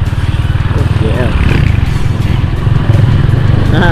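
A motorcycle on the street, one that sounds like a Honda GL, revs its engine in rough, throbbing bursts up close, with a voice talking over part of it.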